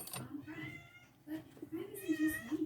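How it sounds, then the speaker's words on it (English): A pet cat meows a few times close by, with rising, wavering calls spread across a couple of seconds indoors. "What do you want, kitty?"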